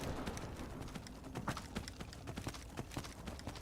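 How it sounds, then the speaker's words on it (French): Horse hooves clip-clop steadily in Skyrim, a rapid run of sharp, evenly spaced hoofbeats close up over a low game ambience, with no talking. "donc on a un cheval"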